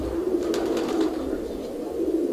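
Low, rolling coos from Iranian pigeons repeat in a short cluster over a constant background hum, near and fairly quiet, with no talking.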